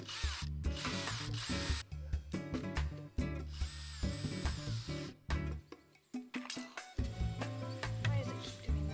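A power drill whirs in repeated short bursts while holes are drilled to build a porch swing, with abrupt starts and stops and brief pauses between the runs, close and fairly loud.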